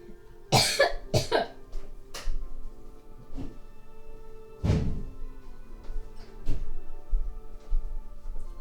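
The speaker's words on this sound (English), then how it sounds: "Are you coughing because of the ants?" Several sharp coughs burst out in a quick cluster, followed by scattered single coughs after a pause, nearby over a quiet hum.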